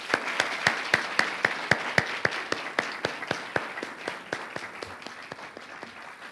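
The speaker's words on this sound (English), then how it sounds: "Please join me in a round of applause for Dr." A small audience at an MLK celebration program claps in a sparse, rhythmic pattern, distinct individual claps close by at a steady pace, gradually thinning and softening toward the end.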